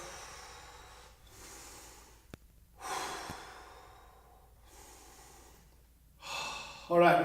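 Slow, deep breathing during a yoga core-strength exercise: long airy inhales and exhales in a steady cycle of about four breaths, close and fairly soft, with a brief click between them.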